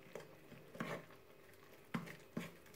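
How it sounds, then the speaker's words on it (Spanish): A spoon scrapes and taps in a bowl while egg and milk are mixed into scone dough, a few soft, close strokes over quiet. "Y mezclo un poquito con la cuchara."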